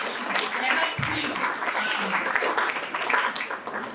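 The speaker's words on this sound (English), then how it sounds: "The health team, clap for them properly." An audience claps and cheers for a health team at a World Cerebral Palsy Day event in Kisumu, with a steady roar of applause running throughout at a moderate level.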